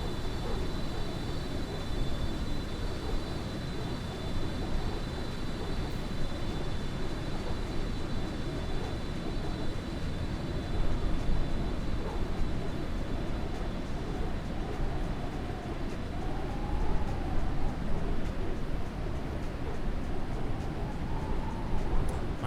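Steady drone of an aircraft engine in Microsoft Flight Simulator using the FT Sim sound set, a continuous broad rumble with faint high tones, constant and even throughout.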